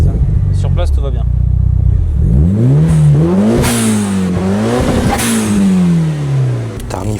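A broken-down Mitsubishi Lancer Evolution being revved hard while parked, the engine note rising and falling in repeated swells toward about 4000 rpm, close and loud, with people talking nearby.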